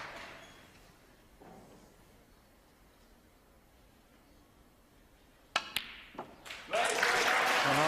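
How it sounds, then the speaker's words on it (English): A snooker crowd breaks into applause and cheers for a maximum break by Ronnie O'Sullivan against Matthew Selt, starting with a few scattered claps after a quiet stretch and swelling into loud, sustained clapping. "And he is being cheered on to the rafters."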